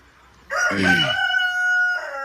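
A rooster crows loudly and close up on a goat farm, one long drawn-out call, while hens cluck faintly around it.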